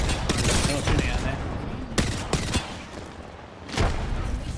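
Bursts of rapid video-game gunfire in a competitive shooter match crackle loudly at the start, then return as sharp shots and another burst near the end, with a player talking over the action.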